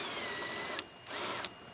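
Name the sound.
power tool removing 7 millimeter grille bolt on 2022 Ford Bronco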